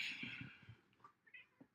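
A house cat gives a drawn-out meow close by, followed by a few fainter short chirps and mews amid low household rustling.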